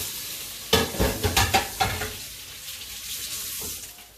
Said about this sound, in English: We're going to let that fry up,